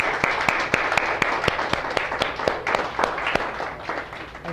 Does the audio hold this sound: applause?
yes